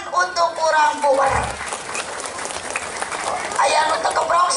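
Audience at a humorous Sundanese religious talk clapping loudly and continuously, with crowd noise and voices mixed in and a slight dip in the middle before the applause swells again.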